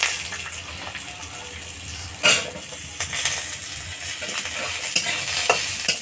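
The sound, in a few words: potatoes frying and being stirred in a pan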